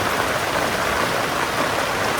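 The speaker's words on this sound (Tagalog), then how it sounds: "Lumakas na yung ulan" Steady, dense rainfall pours down in a continuous broadband hiss, loud and close, with no voices.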